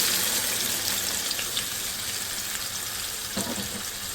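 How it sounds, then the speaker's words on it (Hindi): Chicken pieces with masala and water hit hot oil in a pan, giving a steady, dense hiss of frying and sizzling that carries through the whole stretch, close up and with no talking. "ये सारा चिकन मसाले समेत पानी समेत हम इसमें डाल देंगे"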